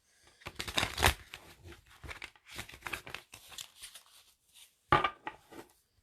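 A deck of tarot cards being shuffled by hand during an unboxing, giving several close, quiet bursts of riffling and sliding card noise separated by brief pauses, with a sharper flurry near the end.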